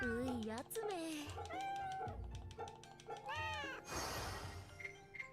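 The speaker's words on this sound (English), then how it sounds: "It's a cat. It's a cat." Repeated close meows from a cat in Fate/Samurai Remnant, rising and falling in pitch over a constant game backdrop, ending with a brief noisy rustle and soft chimes.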